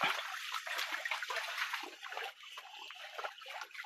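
A small stream at a riverside flows steadily in a soft, continuous wash of trickling and splashing water, close by and fairly quiet.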